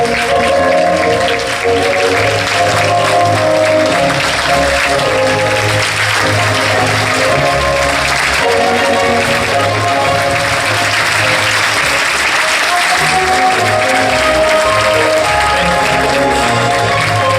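A crowd at a Falla San Vicente child fallera exaltation event in 2025 applauds the child falla president. The clapping is loud, sustained and dense for about seventeen seconds, with faint tonal sound beneath it.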